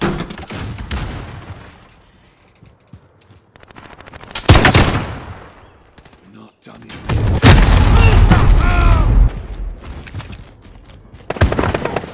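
Flashbang grenade going off during a Modern Warfare hardpoint match, a sharp loud bang amid bursts of gunfire and explosions, with shouted callouts from players over the combat.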